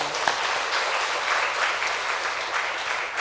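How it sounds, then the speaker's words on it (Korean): A church congregation at Sunday worship applauds the Hallelujah choir, dense continuous clapping filling the room evenly for a few seconds with no speech over it. "우리 박수하겠습니다."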